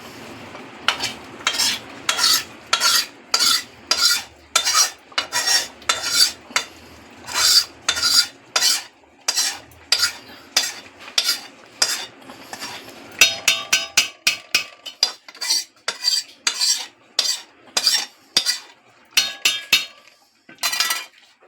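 A spoon stirs fried masala into vegetarian khichuri in a pot, producing a long run of rhythmic scraping strokes and metallic clinks against the pot, close and clear, with no voices.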